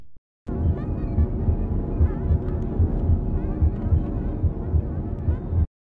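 A low, throbbing machine hum from the brain tumbler in the video game Psychonauts pulses steadily at a regular beat, loud and close, starting and stopping abruptly with silence on either side.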